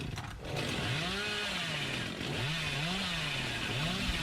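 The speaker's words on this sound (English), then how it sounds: "tries a chainsaw sprint again at close range" Chainsaw revving in the Dead by Daylight video game during a close-range chainsaw sprint, a loud buzzing engine whine that rises and falls in repeated swoops, running continuously for several seconds with no voices.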